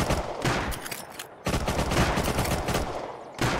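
Loud, rapid gunfire from the video game Unturned, sustained automatic bursts with one short pause, close and harsh with no talking.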